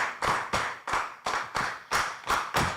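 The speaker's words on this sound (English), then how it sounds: "Some of you are not clapping" Audience clapping in unison in a review session hall, eight sharp, loud claps in a steady rhythm about a third of a second apart, heard alone with no talk over them.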